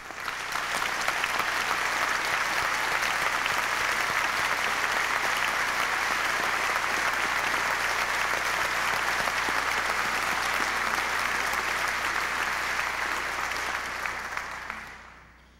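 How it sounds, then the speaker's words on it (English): Appellate division judges, past and present, are applauded by an audience at a Supreme Court justice's swearing-in, with loud, dense, sustained clapping filling the room before it fades out at the end. "please welcome and applaud our appellate division, past and present judges"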